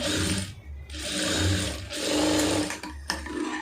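A sewing machine runs a folded hem stitch on a blouse lining, a loud, close mechanical whirring in three bursts separated by short pauses.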